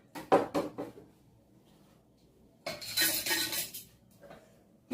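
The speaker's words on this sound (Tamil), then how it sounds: "இதை நாம் எல்லாத்தையும் சேர்த்து போட்டு பொடியாக அரைக்க வேண்டும்." A mixer grinder whirs briefly as palm sugar candy, long pepper and black pepper are ground into cough powder, after a few clinks of utensils and a quiet pause, loud and close.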